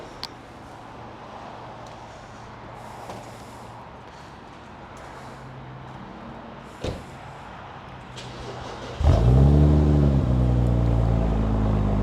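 A BMW G80 M3 sits in quiet surroundings with faint clunks before its engine abruptly fires up, a loud, deep start that flares and rises in pitch with a rev before settling into a strong idle.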